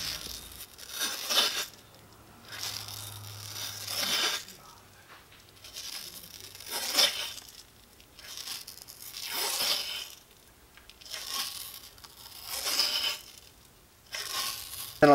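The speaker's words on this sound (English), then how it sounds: "As I'm going, I just like to make sure that my tape job is nice and flat." Hockey tape peels off the roll and is pressed onto a stick blade in regular strokes, each pull giving a loud, crackling tearing rasp followed by a brief pause.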